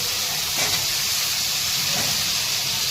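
Potatoes in hot oil with turmeric and asafoetida for a potato sabzi give off a loud, continuous close sizzle and hiss, steady throughout with no talking.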